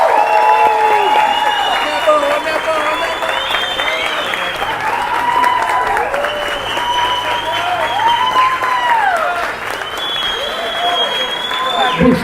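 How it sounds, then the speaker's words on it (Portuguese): Loud crowd applause at a political event in Londrina for a presidential pre-candidate, steady clapping mixed with cheering and shouting voices throughout. "uma salva de palmas para o pré-candidato à presidência da República pelo Partido Missão, senhor Renan Antônio Ferreira dos Santos."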